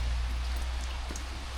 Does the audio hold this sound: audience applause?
no